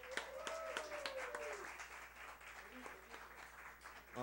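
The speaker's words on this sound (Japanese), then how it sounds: "山ちゃんに大きな拍手" Applause for a band member at a live music club in Harajuku, quiet and distant clapping from the crowd with some voices and a faint tone early on, continuing at low level.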